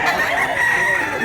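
A white rooster crowing close by, one sustained strained call filling the whole short moment, loud and fairly harsh.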